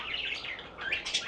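Small birds chirp and tweet at a backyard bird feeder, a quick flurry of bright, close calls overlapping with no talking.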